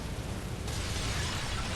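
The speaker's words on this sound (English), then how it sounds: "these oil lanterns are like actually full of oil that he shoots at that causes these explosions" An oil lantern bursts in Bloodborne with a sudden broad blast partway through, leaving a dense roaring wash of noise that stays loud to the end.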